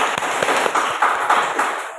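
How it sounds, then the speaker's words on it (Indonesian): A group claps together in a classroom, giving dense, steady applause that carries on for a couple of seconds before easing slightly. "kita kasih aplaus untuk kelompok 2"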